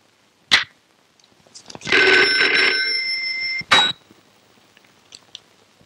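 A telephone bell rings in one sustained burst of about two seconds, loud and close, with sharp knocks just before and just after it in an otherwise quiet room.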